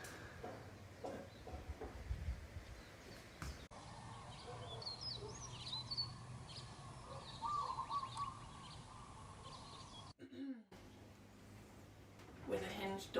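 Small birds chirp in scattered, faint calls around a garden bird bath on an afternoon, over a quiet outdoor background with some low noise.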